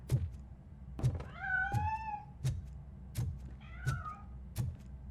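A cat meows twice in the Robocop Rogue City video game, the rising, drawn-out calls set between regular soft thumps, fairly quiet, with no talk.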